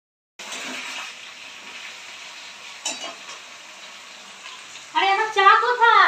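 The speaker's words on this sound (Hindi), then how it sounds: "यहाँ पर मटन मैं फ्राई कर रही हूँ, आप लोग देख लो, बहुत अच्छे से फ्राई कर रहे हैं" Mutton frying in a pan with a steady, close sizzle that runs nearly the whole time, joined near the end by a voice over the sizzle.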